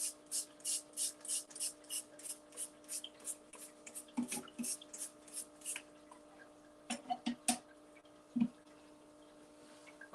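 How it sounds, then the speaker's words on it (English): A spray bottle misting water into an aquarium tank being aquascaped, a series of about a dozen quick sharp spritzes in a steady rhythm, then a few scattered sprays and small handling clicks, close up, no talking. "I'm just gonna spray the tank down one more time."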